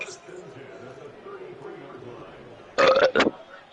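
A person lets out a loud, rough burp of two close pulses near the end, cutting sharply above quiet background talk and game commentary during a football video game session.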